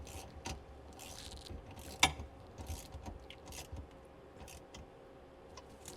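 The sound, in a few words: ratchet tightening jet ski exhaust bolt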